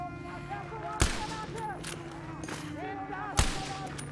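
Gunfire in the World War II shooter Battlefield 5, two sharp close shots about two seconds apart over constant battle ambience, with someone talking over it.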